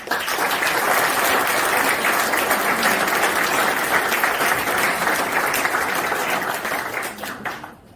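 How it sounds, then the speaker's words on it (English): A reception crowd in a bar and bistro gives the event staff a big round of applause, a dense, loud, sustained roar of clapping that fades out at the very end. "So to Niall and all the staff, a big round of applause."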